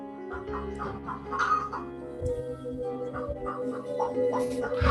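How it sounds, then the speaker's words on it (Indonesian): An orange mother hen guarding her chicks gives repeated low, throaty clucks in an uneven rhythm, close and clear, with faint peeping mixed in. "Ini video induk ayam."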